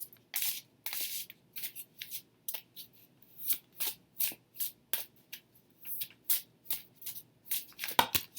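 Tarot cards shuffled by hand, a run of crisp riffling bursts in an uneven rhythm, close and quiet, separated by short silences.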